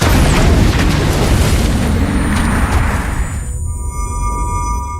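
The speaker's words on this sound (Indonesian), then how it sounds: "Ledakan besar gudang pembuatan narkoba akhirnya hancur seketika" A drug-making warehouse blows up in a film scene: a loud, sustained explosive roar with rumbling debris that fills the mix, then gives way to a lingering tonal ring as the blast dies off.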